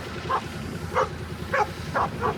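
Dogs bark at a cow through a farm fence, five short, sharp yips in quick succession at close range over a low background rumble.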